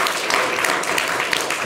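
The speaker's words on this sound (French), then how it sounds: "On peut applaudir Ignace" Studio audience applause for a cartoonist on a French talk show, a dense, even burst of clapping heard alone and close for under two seconds.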